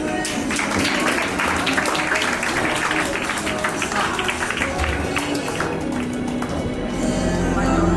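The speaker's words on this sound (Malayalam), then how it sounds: "ഒരു ക്ലാപ്പ് എല്ലാവരും." Audience applause at a baptism celebration in Calicut, dense, loud clapping from a crowd that carries steadily throughout, with voices mixed in.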